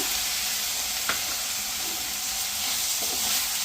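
Tomatoes frying with turmeric in a hot pan, a steady loud sizzle and hiss with a couple of brief clinks of stirring, and no talk.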